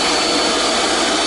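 Electric pump inflating an Airelax air mattress, a steady loud whirring drone like a vacuum cleaner, running continuously and close throughout with no talk.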